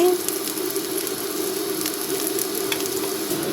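Chopped garlic, onion and dried chili hiss steadily in hot oil, a close, continuous sizzle with a few brief stirring clicks and no talking over it.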